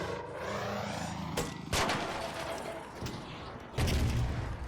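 Rascal grenade launcher rounds slam into a Rocketeer drone in the video game ARC Raiders, giving a few sharp, loud thumping blasts spaced a second or two apart over a droning engine hum.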